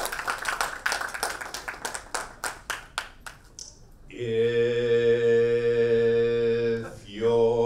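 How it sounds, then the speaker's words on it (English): Applause greets a speaker at a business talk, with scattered hand claps and taps for about four seconds before sustained harmonic musical tones take over the rest of the clip. "let's put our hands together"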